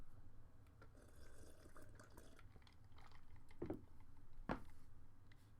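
Water is poured and then drunk, a soft liquid trickle and wash with two sharper splashy gulps or pours in the latter half, close and fairly quiet, with no talking.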